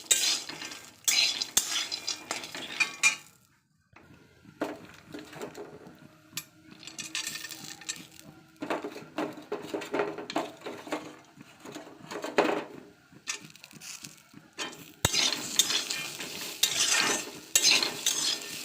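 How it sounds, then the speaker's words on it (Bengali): Peanuts roasting in a pan over a low flame rattle and clatter as a spatula stirs them in irregular bursts, with brief pauses between strokes and a soft frying hiss underneath. "লো ফ্লেমে বাদামটা ভাজতে হবে যাতে না পড়ে যায়"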